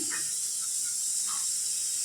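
A pressure cooker boiling black gram lentils in a home kitchen gives off a steady, continuous high hiss of escaping steam that runs unbroken throughout at moderate loudness, with faint clinks in the background and no talk.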